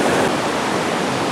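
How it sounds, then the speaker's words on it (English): A mountain brook on the Falling Waters Trail rushes in a loud, steady broadband wash of flowing water, with no voices over it. "We very quickly come to a really beautiful brook"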